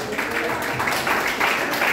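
A church congregation claps together during a sermon, a dense, fairly loud wash of applause with rhythmic pulses of hands striking in unison.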